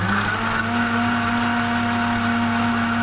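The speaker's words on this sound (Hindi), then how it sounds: "ये मैं थोड़ा सा ड्रिंक अभी डाल के इसको जो है हम ब्लेंड कर लेंगे" A kitchen blender whirs steadily at close range, blending a drink of watermelon and Rooh Afza with a loud, constant high-speed motor whine and a bright sustained hum, with no voices over it.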